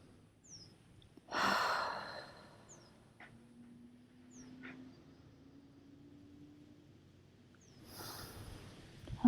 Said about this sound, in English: You breathe deeply here.